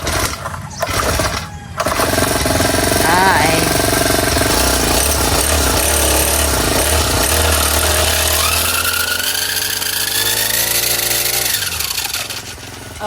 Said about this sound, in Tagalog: Si Bossing po ay nagagrass cutter na.